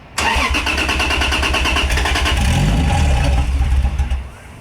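A Supra's engine cranks briefly, catches and fires up close by, running loud and steady with a rough idle before cutting off near the end.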